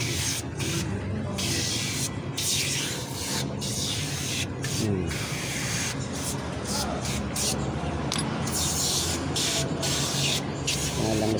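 A spray can hisses steadily and loudly at close range onto a newly fitted oil sending unit on an L300 4N14 Euro 4 engine, running almost continuously with short breaks, while someone speaks over it.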